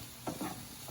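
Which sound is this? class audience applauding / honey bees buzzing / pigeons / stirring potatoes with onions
stirring potatoes with onions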